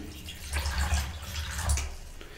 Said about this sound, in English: And then take some water and slowly pour it into the bowl